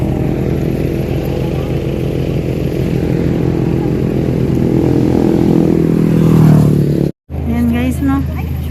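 A motorcycle engine runs steadily and fairly loud at a man-made forest photo spot on Bohol, a continuous rumble that swells slightly before a brief dropout, with voices talking over it near the end.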